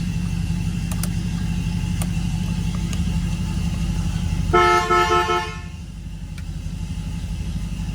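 A 1973 Buick Riviera boattail with a 455 V8 sounds its key-in-ignition warning buzzer: a steady, fairly loud electric tone lasting about a second, over a constant low engine idle, then cutting off abruptly.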